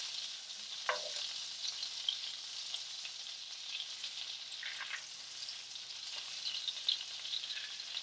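Two tablespoons of butter melt in a pan with a soft, even sizzle that runs unbroken throughout. It stays faint and a little distant, with one or two small pops and no voices.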